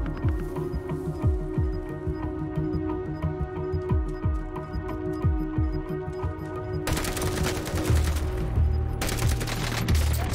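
Bursts of gunfire in the game Warzone: a rapid series of loud, close shots in repeated volleys, then dense noisy crackle later on, with no talking.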